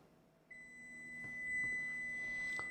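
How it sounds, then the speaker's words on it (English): A kitchen oven timer goes off after twenty minutes of baking a shepherd's pie, giving a steady, sustained electronic beep that starts abruptly and continues alone at moderate volume, with a few faint clicks beneath. "there's the timer on the 20 minutes"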